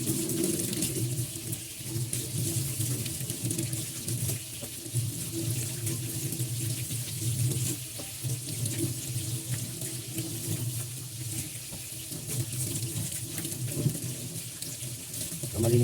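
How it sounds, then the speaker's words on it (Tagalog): Running tap water splashes steadily into a sink as vegetables are washed before being stripped, a continuous close hiss and patter with no talk. "hugasan mo muna bago mo himayin"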